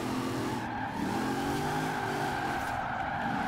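An all-wheel-drive car drifts in Forza Horizon 4, heard from the cockpit view: a steady engine drone with continuous tire squeal running throughout, no talk.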